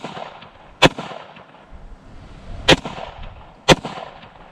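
Three sharp gunshots from a Glock Gen 3 clone pistol fired at a bowling pin, spaced irregularly with the second and third closer together, each a loud crack standing out over a quiet outdoor background.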